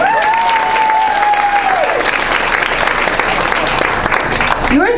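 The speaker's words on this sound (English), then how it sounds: "Let's give her a round of applause." Audience applause fills a school board meeting honoring a retiring district teacher, steady dense clapping throughout with a sustained whistle or cheer early on, close and loud.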